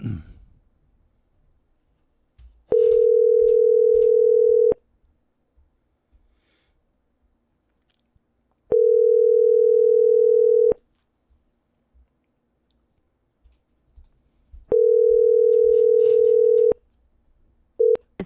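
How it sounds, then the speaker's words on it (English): Voicemail recording tone on a phone call sounds as three long, steady electronic beeps of about two seconds each, evenly spaced with quiet gaps, followed by the start of a fourth, alone and loud. "At the tone, please record your message."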